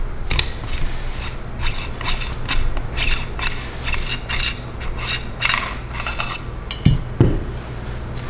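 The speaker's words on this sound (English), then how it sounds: "Now we're going to take off our barrel shroud, which is reverse threaded." Metal parts click, clink and scrape in quick irregular bursts as the reverse-threaded barrel shroud is unscrewed from an HDM 1050 air rifle, close and fairly loud with no speech.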